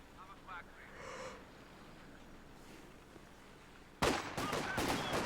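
Machine gun fire rattles in Company of Heroes 2, with a distant burst early on and then a loud, sustained volley of rapid shots at the end, amid a faint game ambience and a voice line.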